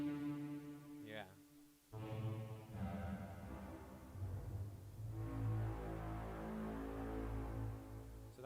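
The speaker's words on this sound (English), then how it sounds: "So that actually sounds like a really nice horn." DJ horn sample treated with a heavy hall reverb effect, sustained droning blasts with a brief gap early on, swelling and smeared into a long reverberant tail, loud and close.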